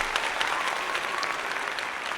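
Dense applause plays on a live stream to greet an incoming raid, a thick, even burst of many hands clapping with no voices over it.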